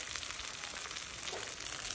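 Steady crackling sizzle of food frying in hot oil, continuous and close, with no voices.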